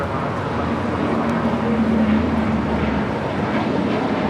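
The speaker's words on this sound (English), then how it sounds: "This is Virgin Atlantic Flight 141 coming in from London Heathrow on a 787-9 Dreamliner" A Virgin Atlantic Boeing 787-9 Dreamliner arriving at LAX from London Heathrow produces a steady, broad jet roar with a low engine hum, constant and moderately loud throughout.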